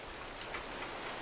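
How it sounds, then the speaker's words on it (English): Steady rain hiss falling in the Minecraft game world, a soft continuous wash of drops at low level with no other sounds over it. "it's raining outside"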